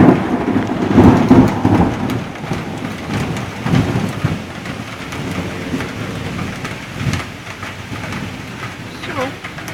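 A heavy downpour with hail in Moscow roars steadily and loudly, with low rumbles of thunder rolling underneath and people talking over it.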